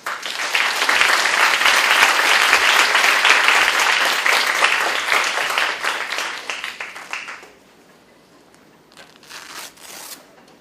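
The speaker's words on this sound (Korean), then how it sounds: "큰 박수로 모시겠습니다." A university lecture audience in a hall gives a long burst of dense applause that runs for about seven seconds, then tapers to a few scattered claps.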